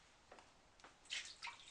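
Water gurgles faintly through a Kangen water ionizer during cleaning, in soft, quiet splashing bursts over a low background hiss.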